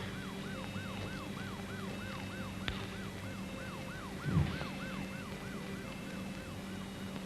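An ambulance siren wails in a steady repeating rise-and-fall cycle throughout, moderately loud over a low engine hum, with a brief thump near the middle; no one speaks.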